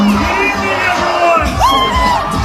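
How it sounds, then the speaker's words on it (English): At an NYPD National Night Out gathering on Staten Island, a large crowd boos a speaker, loud and continuous, with individual shouts and whoops rising out of the jeering mass. "People are booing him."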